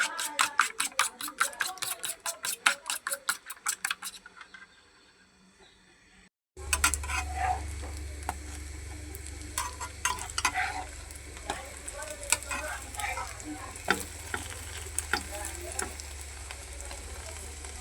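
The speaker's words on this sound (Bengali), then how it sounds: "এই যে এইভাবে ভাইজা নিতেছি।" Roti with egg fries in a pan, a steady close sizzle with scraping and stirring clatter after a brief pause, preceded by a rhythmic series of sharp taps; a faint voice is heard briefly.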